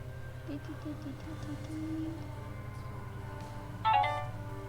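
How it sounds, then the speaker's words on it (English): A mobile phone rings softly in a room with a looping tune and repeating tones under a steady low hum, then a brighter chime stands out near the end; no one talks. "My phone is going nuts."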